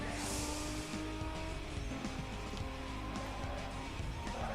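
Race cars roaring in Need for Speed Most Wanted, a loud continuous engine drone with shifting pitch and brief tire squeals, close and dense throughout, with a voice faintly under it.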